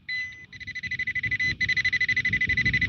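A cheap $20 handheld pinpointer metal detector held over a buried target in a front lawn gives a rapid pulsing electronic buzz, close and steady, with a brief gap midway before the quick beeping resumes.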